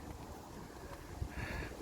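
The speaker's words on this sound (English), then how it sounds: "the wind has got up a little bit." Wind gusting outdoors, a steady broadband rush with a slightly louder surge near the end, no voices.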